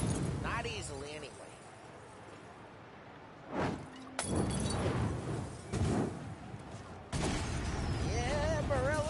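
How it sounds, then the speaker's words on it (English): Gunfire and crashing debris in the crime game Mafia Definitive Edition, loud cracks and shattering bursts among urban noise while characters talk throughout. "Reports of burning vehicles and gunfire in North Park."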